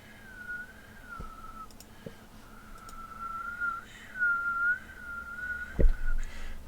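A person attempting to whistle produces a thin, wavering, fairly steady tone that breaks off and restarts a few times, with faint clicks and breathy noise in between.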